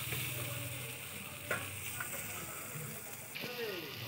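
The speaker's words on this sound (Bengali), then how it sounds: "এইভাবে কষে নেবো মশলাটা" Spice masala with chopped tomato fries in a pan for a Bengali bata fish dish with mustard and poppy seed, giving a steady low sizzle broken by a few sharp spatula scrapes and stirring knocks.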